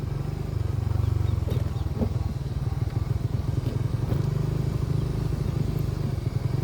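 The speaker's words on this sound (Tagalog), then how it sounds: "nakadaan yung motor." A motorcycle engine rumbles steadily nearby on a coastal road in Bataan, a low, throbbing putter that holds at a moderate level for several seconds with no talking over it.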